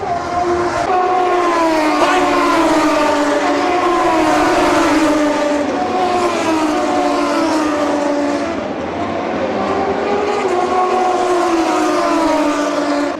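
High-revving MotoGP racing motorcycles scream past at a MotoGP 2025 event in a continuous loud roar, their engine pitch rising and falling as they pass.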